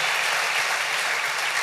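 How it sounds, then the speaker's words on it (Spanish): Church congregation applauding together in a steady, dense wash of clapping that holds evenly from start to finish, with no voices rising above it. "Denle ese aplauso al Rey bendito."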